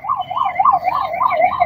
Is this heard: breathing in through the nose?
no